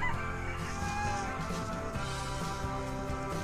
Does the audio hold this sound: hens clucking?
yes